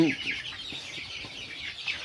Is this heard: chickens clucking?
yes